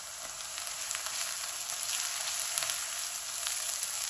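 Ginger, garlic and green chili paste fries in a pan while cauliflower is cooked: a steady, fine hissing sizzle with scattered crackles, moderately close and quiet, with no talking.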